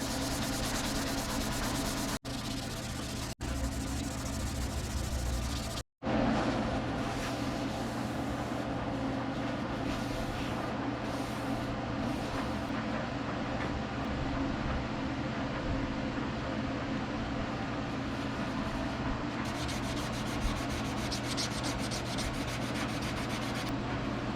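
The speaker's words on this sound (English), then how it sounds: "let's try and get this body sanded up" A brass resonator guitar body is sanded by hand in a steady, continuous rubbing scrape that runs close and loud, broken only by a brief pause early on.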